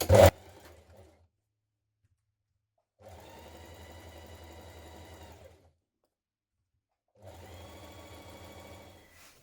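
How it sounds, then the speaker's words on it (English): A sewing machine stitches the front seam of a cuff top with a 1 cm allowance, beginning with a back tack: a sharp clack, then two separate runs of steady, close mechanical whirring with a quiet pause between them. "Now we're going to stitch our front seam with a 1 centimetre seam allowance, back tack to begin"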